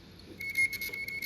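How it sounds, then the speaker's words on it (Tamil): A failed 5400 RPM hard drive beeps from inside its casing, a thin steady electronic tone held through the short stretch over a low hum of room noise. "ஆக்சுவலி இது ஒரு டெட் ஹார்ட் ட்ரைவ் ஆக்சுவலி, அதனால் இப்படி பீப் ஆகிட்டு இருக்கு."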